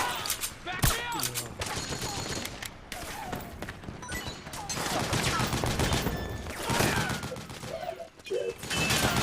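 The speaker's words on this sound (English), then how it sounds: "Suppressing fire!" Suppressing gunfire in Metal Gear Solid 4 rattles on in dense overlapping bursts and heavy thumps, a chaotic battle din with voices shouting and talking throughout.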